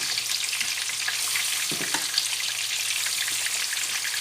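Sea bream frying in a pan while hot fat is spooned over it, a dense continuous sizzle with soft crackling and a few faint spoon taps, no voices.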